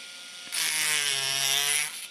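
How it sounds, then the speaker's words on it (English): A loud, steady electric sander whirs against a hard 3D-printed part, starting abruptly after a brief pause and grinding continuously with a buzzing hum. "Might do a rough electric sand just to get it started."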